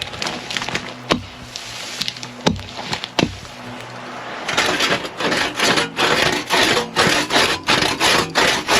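A crosscut saw works through firewood at a wilderness camp: a few slow separate strokes, then a quick regular back-and-forth rhythm of rasping wooden cuts, close and loud.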